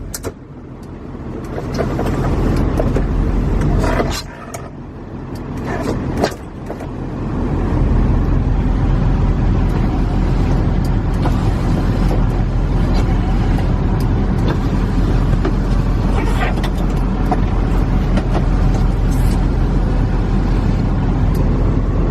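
A vehicle engine idling steadily after finally starting following months of repair, a loud continuous rumble with a brief dip early on, alone without talk.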